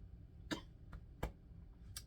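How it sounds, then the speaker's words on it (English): Three short, soft coughs come from one person, spaced about three-quarters of a second apart, over a quiet room background. "Don't know where this cough is coming from"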